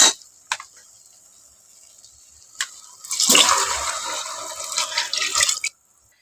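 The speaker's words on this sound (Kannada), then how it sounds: "ಹಾಗಾಗಿ ನಿಮ್ಮ ಅಕ್ಕಿ ಅಂದಾಜ್ ಮೇಲೆ ನೀರನ್ನ ಹಾಕೊಳ್ರಿ" Water poured into a pot of ghee-coated rice for a no-vegetable pulao, a steady splashing pour that swells to a loud gush for about three seconds and then cuts off, with a few faint clinks before it.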